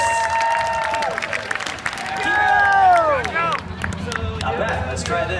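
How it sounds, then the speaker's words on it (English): Live stunt show crowd in Orlando, Florida, applauding and cheering for the finalists, clapping mixed with crowd noise and voices, with tonal sweeping sounds layered over it. "Ladies and gentlemen, big round of applause for your finalists."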